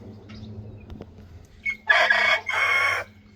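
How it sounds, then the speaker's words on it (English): A pet rooster recovering from sneezing and frostbite on its comb lets out a short, close crow in two bursts after a quiet stretch of faint background sounds, with no one speaking. "Sammy, you actually crowed."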